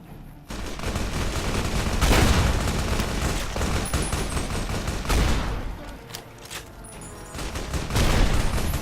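Explosive rounds fire in Fallout: New Vegas as sustained, loud bursts of gunfire with booming impacts, swelling and easing across the stretch.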